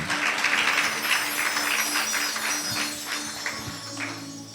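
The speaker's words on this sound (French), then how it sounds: "Acclamez le Seigneur pour votre vie." A church congregation applauds during a celebration service, and the claps blend into a dense, steady patter that slowly fades a little toward the end.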